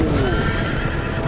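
A horse in a Game of Thrones video game gives a loud whinny over steady hoof clatter, filling the whole short stretch without a break.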